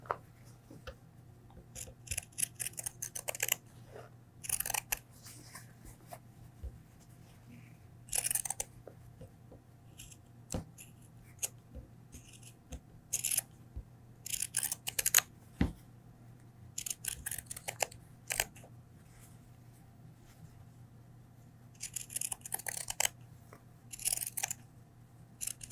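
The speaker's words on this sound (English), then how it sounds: "we're going to take our pinking shears again and trim these curves as well" Pinking shears trim the curved seam allowances of fabric for a homemade flu mask, making quiet, crunchy snips in short irregular bursts separated by pauses, with no talking.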